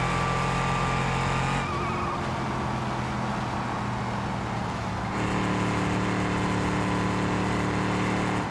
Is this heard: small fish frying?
no